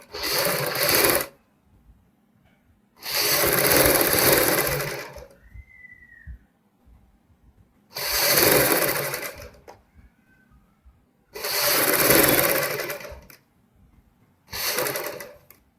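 A sewing machine stitches around a kurti neckline in five loud, close bursts of rapid whirring, separated by brief quiet pauses with faint handling sounds.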